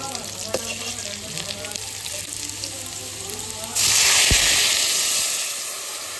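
Potatoes frying in oil in a home kitchen pan, a steady close sizzle that suddenly swells into a louder, brighter hiss partway through, then slowly settles.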